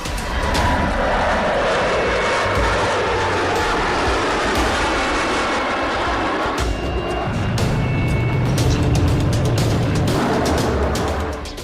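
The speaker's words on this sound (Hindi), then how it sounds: "आसमान को चीरते हुए रफाल निकलता है" A Rafale fighter jet flies overhead at the Aero India 2021 air show, a loud, sustained tearing roar that shifts in tone as it passes, with no voices over it.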